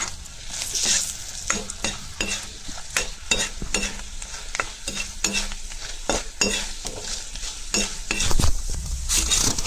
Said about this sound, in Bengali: এখানে কয়েকটা শুকনা কারি পাতা দিলাম, একসঙ্গে বাজা হয়ে গেল।